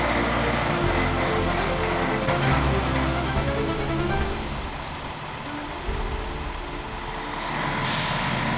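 A loaded tanker truck carrying dozens of tons of liquid maneuvers with loud, steady engine rumble throughout, a hissing air-brake release near the end.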